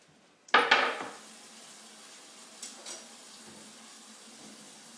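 Tap water gushes into a kitchen sink as a knife is washed, a sudden splashy burst that fades quickly, followed by a few faint clinks and a quiet tail.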